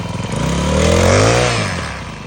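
A small engine drives a capstan winch on a log cabin gin pole, its note rising as the throttle opens and then easing back over a couple of seconds, loud and close with no talk.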